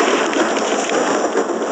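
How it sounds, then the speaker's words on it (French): Heavy rain pours steadily in a dense, continuous hiss in a video game during a storm, loud and close, with no voices. "il pleut fort aujourd'hui"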